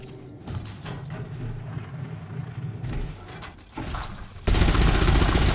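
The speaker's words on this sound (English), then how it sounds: "However, I do have cannons." Spaceship cannons fire in a space video game, a run of mechanical bursts and thuds. Near the end a loud, dense barrage takes over.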